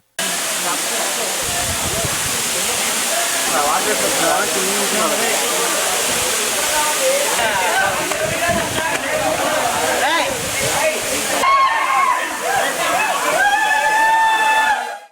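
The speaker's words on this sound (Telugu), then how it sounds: "ఎత్తైన కొండల నుండి జాలువారుతున్న జలపాతాన్ని చూడగానే" The Pandavula waterfall in Mahabubabad District cascades from high hills with a loud, continuous roaring rush that never lets up, while a voice speaks over it.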